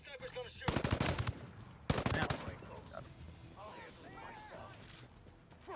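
Automatic gunfire in the tactical shooter Ghost Recon Breakpoint comes in two loud, rapid bursts, followed by quieter game effects and a faint voice.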